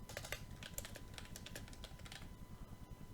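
Rapid, steady typing on a computer keyboard, a dense run of close clicks that thins toward the end, with no talk.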